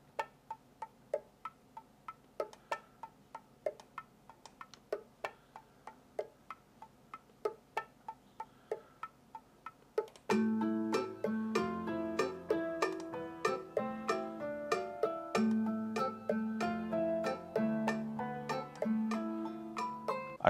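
Hip-hop drum and melodic loop playing in FL Studio for a Latin rap beat, starting sparse with steady clicking percussion, then switching halfway into a dense, loud groove of stacked tonal hits.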